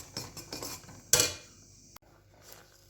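A utensil stirs sesame seeds into melted jaggery in a pan, giving quick scraping taps then one sharper clatter against the metal, close and dry, with no voices.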